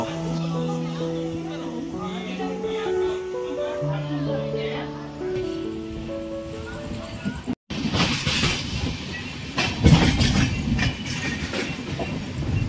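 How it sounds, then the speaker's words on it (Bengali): Sustained horn-like tones give way to the rumbling, clattering 22890 Samudra Kanya Express picking up motion as it leaves Bhubaneswar station, with rhythmic wheel clicks and some voices in the background. "আর আমাদের ভুবনেশ্বর থেকে ট্রেন কিন্তু ছেড়ে দিল"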